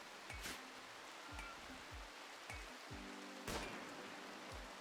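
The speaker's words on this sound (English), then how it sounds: "it's because it's raining." Rain falls in the colony-building game RimWorld as a steady, even hiss, with soft low thumps and faint chirping game effects recurring every second or so, and no talking.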